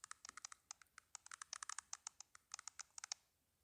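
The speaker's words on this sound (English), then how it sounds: "I started tapping the keys and spilling my thoughts through the keyboard into the BBS." Keyboard typing sound effect from the visual novel game Bad End: quick, crisp keystrokes in irregular bursts with brief pauses, fairly quiet and alone, ending after a few seconds.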